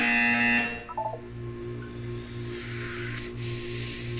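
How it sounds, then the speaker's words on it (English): In the Portal 2 game, a short bright electronic buzzer tone sounds first, then a low pulsing hum repeats in a steady rhythm under a soft hiss. "You will hear a buzzer."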